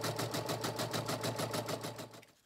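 An embroidery machine stitches the outline of a bunny ear with a rapid, even mechanical thumping that keeps a steady rhythm, fairly quiet and close, then slows and stops near the end.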